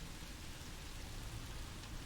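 Steady rain falls in the Song of Horror horror video game, a dense, even hiss of droplets with no breaks, fairly soft and continuous throughout.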